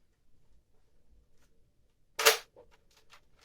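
One sharp snap as a toy rifle fires, a single short crack after near silence, followed by faint small clicks.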